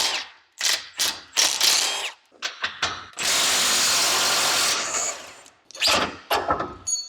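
A ratchet loosening 10mm bolts underneath a Can-Am Maverick X3, with bursts of rapid clicking, a longer sustained whirring run in the middle, then more short ratcheting bursts close by.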